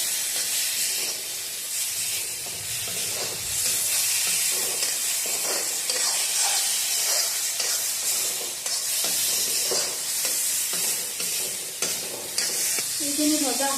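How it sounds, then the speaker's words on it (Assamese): Prawns fry in hot oil in a pan for a curry, a continuous loud sizzle with hissing steam and repeated scraping of a spatula stirring through the pan, no talk. "এইখিনি অকণমান ভাজি থাকিম।"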